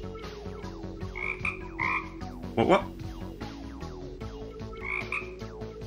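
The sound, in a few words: frog croaking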